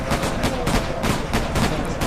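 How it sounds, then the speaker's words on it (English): Rapid, repeated gunfire in a city, with steady bursts of shots every few tenths of a second, loud and sustained, echoing like a fusillade fired in celebration. "the guns are going off in celebration of your arrival"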